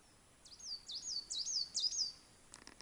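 A bird in the taiga forest sings a quick series of high, warbling whistled phrases, five or six in a row, clear against a quiet, still background.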